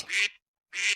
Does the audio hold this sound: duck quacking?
yes